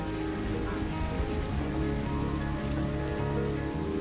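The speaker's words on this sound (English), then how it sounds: "Beautiful on another rainy Zoo day." Steady rain falls in the Planet Zoo video game, a dense, even hiss of drops on surfaces that holds constant throughout with no voices.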